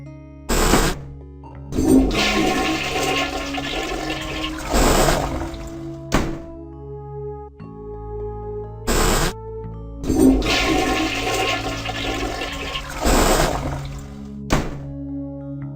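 Toilet flushing in the video game I Have No Mouth And I Must Scream, heard twice in a row as a loud rushing gurgle with thunks, standing alone without talk.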